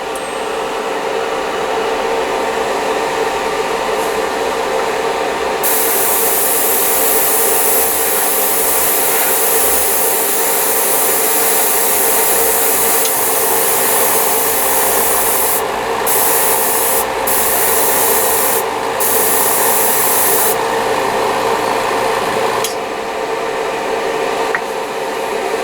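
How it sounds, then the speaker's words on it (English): A Paasche H single action external mix siphon feed airbrush sprays in a continuous loud hiss, with short breaks and changes in airflow as the spray is started and stopped. "last up is going to be the Pipette H single action external mix airbrush"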